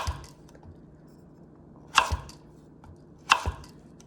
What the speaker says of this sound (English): We're just gonna be kind of chopping for a while here